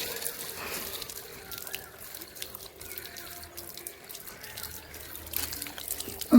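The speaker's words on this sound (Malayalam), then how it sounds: "ഇതാണ് പൈപ്പ് തുറക്കുക." An opened outdoor water tap runs steadily for a dog to drink, a soft continuous splashing stream that stays fairly quiet and ends with a sudden louder bump.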